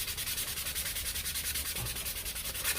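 Sandpaper works a Nerf Rival Kronos blaster part with fast, even back-and-forth strokes that give a steady, close, rhythmic scratching with no talking.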